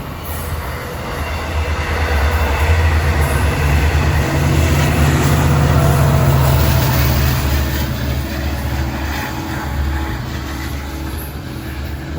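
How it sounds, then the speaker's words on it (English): A DM30AC dual-mode diesel locomotive leading westbound equipment roars loudly and steadily through Kew Gardens station, a close, dense rumble with rail noise throughout and no talking. "Westbound diesel equipment headed for Long Island City with number 423."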